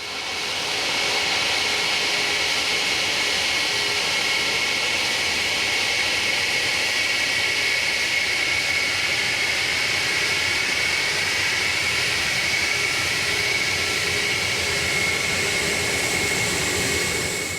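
Concorde supersonic jet airliner taxiing past at an airport, a steady, loud jet engine roar with a sustained high whine that holds evenly throughout, no voices.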